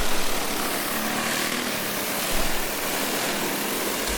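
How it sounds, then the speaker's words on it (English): A pack of twelve backyard go-karts roars off the line at a dirt race start, their small engines blending into a dense, steady buzzing drone that swells briefly near the end, with no voices over it. "12 karts making the start of this one."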